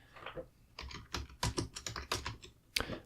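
Quick bursts of keystrokes on a computer keyboard as a search is typed, close and clear, with short pauses between clusters of clicks.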